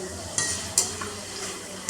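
Bitter gourd being sautéed and stirred in leftover chili-flavoured oil in a pan, a steady sizzle broken by a few brief scraping stirs, close and moderately loud with no talking.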